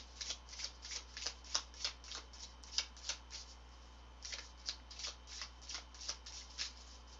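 A deck of cards is shuffled to draw a single card, giving a steady run of crisp riffling bursts at close range with a short pause midway, and no one talks over it.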